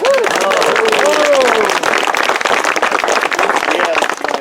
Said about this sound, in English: If you guys would give him a round of applause.